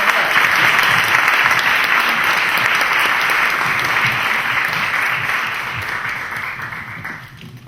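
An audience bursts into loud, sustained applause for playwright Mauricio Kartún at a master class event, a dense roar of many hands that holds steady and then gradually thins and fades toward the end.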